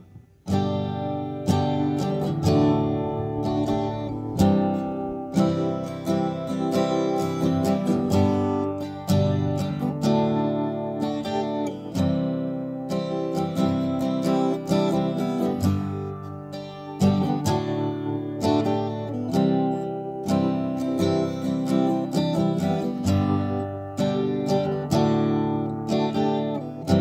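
An unamplified acoustic guitar, a Gibson or Epiphone J-45 style, strummed and picked continuously in a room, with a warm, somewhat dull tone and steady rhythmic chords throughout.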